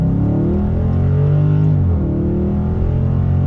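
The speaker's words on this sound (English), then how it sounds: "Back on throttle, here we go." A 2020 Dodge Charger Scat Pack's engine pulls steadily under throttle, a loud continuous rumble heard from inside the cabin with a rising pitch sweep partway through, no talk over it.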